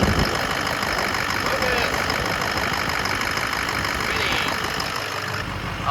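A freshly rebuilt Ford Powerstroke diesel idles close by with a steady, dense clatter and a hint of knock, holding even for several seconds before the sound shifts at the very end.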